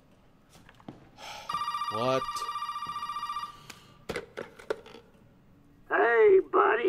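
A telephone rings in the video game Resident Evil 7, a loud electronic bell trilling in a long sustained burst, followed by clicks, thuds and game sounds, with a voice briefly speaking over it.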